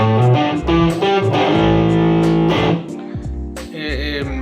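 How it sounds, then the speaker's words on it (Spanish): An electric guitar played through a distortion effect rings out in loud, sustained chords and notes, with a few pick attacks and a short pause near the end, and no talking. "cuando yo utilizo una distorsión, suena bien en general, pero el problema es cuando se empasta"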